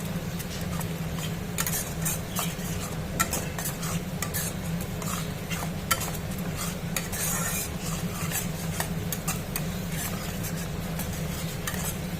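Spices with turmeric being stirred and fried in a pan for a raw mango chicken curry, a steady low sizzle under repeated scraping and clinking strokes of a spoon, close and without voices.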